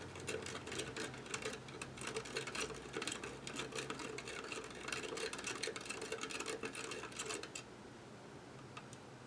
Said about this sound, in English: I gotta stir this one a little bit more than the others because it's got a lot of sugar to mix